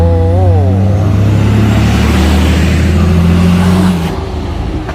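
Six-wheel dump trucks roll past one after another in a procession, loud and close, their diesel engines humming steadily with a rising rev early on before the noise eases and drops slightly at the end.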